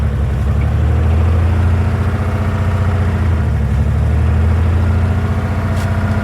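The engine of a WW2 International KS4 truck runs close and loud, a steady low throbbing idle with a rhythmic pulsing beat and no talk.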